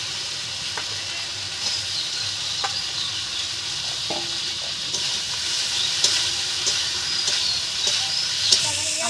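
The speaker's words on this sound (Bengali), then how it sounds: "আমি এবার ডিম পটলটা দিয়ে আমি আরেকটু ভালো করে কষিয়ে নিয়ে তারপরে জল দেবো" Egg and pointed gourd being sautéed in spice masala in a pan for a biryani, a continuous close sizzle with repeated scraping and clinking stirs, fairly loud and with no talking.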